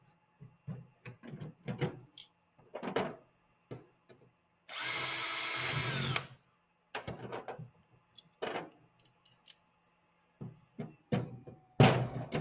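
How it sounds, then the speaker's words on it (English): An electric drill whirs in one loud burst of about a second and a half, drilling holes in metal body panels of a Talon A600 aircraft, surrounded by scattered clicks, taps and handling noises at close range. "Drill and secure the panels with clecos."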